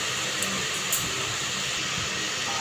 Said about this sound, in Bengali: সবকটা আম কেটে দিয়ে দিয়েছি এরকম করে মিক্সিতে দিয়ে।